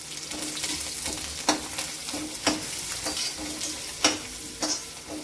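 Turmeric crackles in a hot oil tempering (phodni) for spicy tikhat bhat, a constant close sizzle punctuated by a few sharp spoon taps against the pan as it is stirred.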